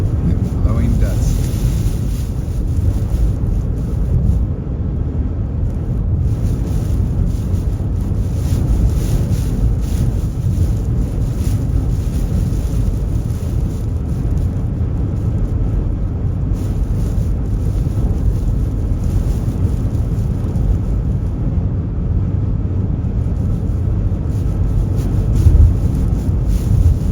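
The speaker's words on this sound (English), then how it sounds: "Making my way to Highway 395, lots of sand, sandstorm." Strong wind roars through a desert sandstorm in Death Valley, a continuous low buffeting rush with heavy gusts against the microphone lasting throughout.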